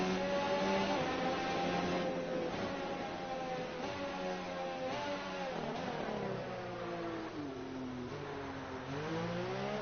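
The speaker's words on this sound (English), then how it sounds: "I love the engine of this car, it makes such a lovely noise." High-pitched Formula 1 engine whine from the F1 2019 video game, rising and falling steadily as gears shift, continuous and fairly loud with a synthetic, game-like tone.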